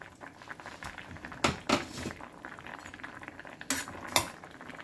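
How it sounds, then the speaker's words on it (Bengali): A metal lid is lifted off a pot of boiled potatoes, giving faint clattering knocks and scrapes close by, with two clusters of clinks over a quiet simmering background. "আলু সেদ্ধ হয়ে গেছে, এবার ঢাকনাটা উঠিয়ে দেব।"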